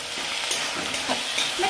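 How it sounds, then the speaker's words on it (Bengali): Turmeric and coriander powder are sautéed in a pan with a soft, close sizzle and a few quick stirring scrapes over a brief moment. "এবার ভালো করে কষিয়ে নেব।"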